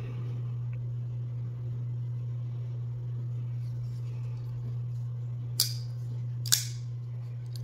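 Quiet Carry The Nine pocket knife flipped open, two sharp metallic clicks close together as the blade snaps out and locks, over a steady low electrical hum.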